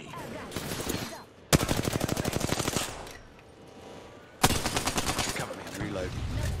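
Two bursts of rapid automatic gunfire crackle through an Apex Legends match with a Modern Warfare 2 mod, each lasting about a second and a half, with quieter game ambience and muffled voices between them.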